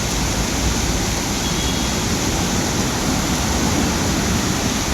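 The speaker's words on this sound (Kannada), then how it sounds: "ಜೋರಾಗಿ ಬರ್ತೈತೆ ಮಳೆ" Heavy rain pours onto a roadside stall in a dense, loud, unbroken roar of broadband noise.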